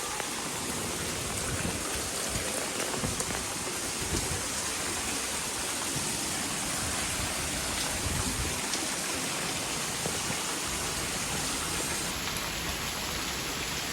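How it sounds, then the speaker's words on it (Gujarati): Heavy monsoon rain pours down in Surat, India, with streets flooded, in a constant, dense hiss, loud and unbroken from start to finish. "અત્યારે અમારે સુરતમાં વરસાદ બહુ જ છે."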